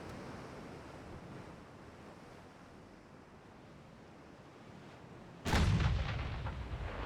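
A single heavy boom of naval gunfire from a warship in the naval combat game UAD, set in a 1908 French campaign, cuts sharply through a low wind-and-surf bed near the end and then rumbles away.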